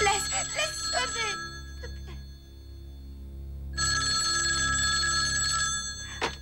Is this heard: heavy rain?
no